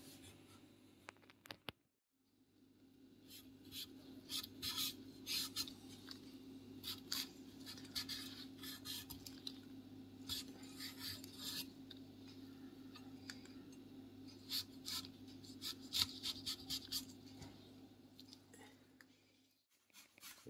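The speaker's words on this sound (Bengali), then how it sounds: "মেশিনে ঘষে নেব" Papaya rubbed against a grater for a papaya ghonto, a steady close scraping with irregular ticks and rasps over a constant low hum, running nearly the whole stretch after a brief quiet start.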